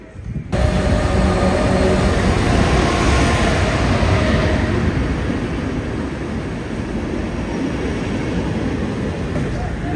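A train stands at a busy station in Morocco, bound for Marrakesh, with a loud continuous rumble and hiss of engines and station noise filling the whole stretch.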